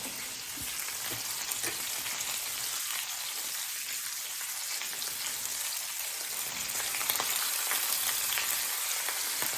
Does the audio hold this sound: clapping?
no